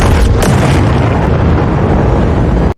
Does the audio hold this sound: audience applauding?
no